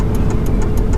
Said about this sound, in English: if you're wondering what kind of truck I'm driving, it is a Dodge